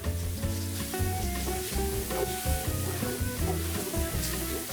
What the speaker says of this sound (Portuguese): Então eu joguei o salzinho aqui para ele poder desidratar a cebola, para poder chegar no ponto do nosso refogado.